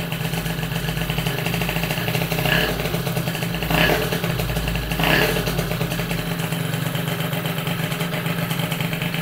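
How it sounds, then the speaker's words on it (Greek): A Zip scooter's two-stroke engine revving indoors after a rebuild, a buzzing idle rising in three short throttle blips before settling back, loud and close. "Να του δώσω λίγο γκάζι."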